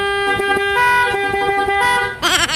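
Dual horn fitted to a Honda XRM FI motorcycle, sounded in several loud honks, steady at first and then warbling toward the end, with no talk over it.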